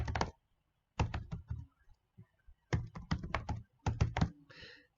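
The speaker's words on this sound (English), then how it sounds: "So I'm going to type in my email address and type that in again." An email address typed on a computer keyboard in bursts of quick, close key clicks, separated by short pauses, fairly faint and with no talking.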